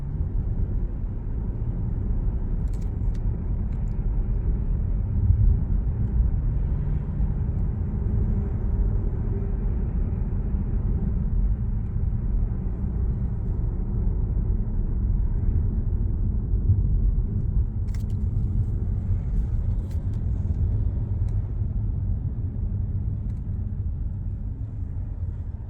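Steady low road rumble inside a Genesis G380 cabin after soundproofing work, a continuous dull drone with faint tire noise and no speech, constant in level throughout.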